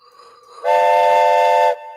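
Train whistle sound effect: one loud, sustained, harmonic blast lasting about a second, rising abruptly and cutting off cleanly, with no voices over it.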